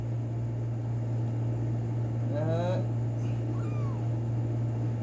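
A stray kitten meows twice, a short bright call and then a thinner rising one, faint against a steady electrical hum and background noise.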